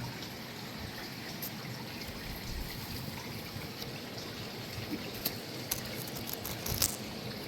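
Water flows steadily up into an indoor creek running through a regenerative pond garden, a soft continuous trickle and gurgle with a few faint splashy ticks near the end.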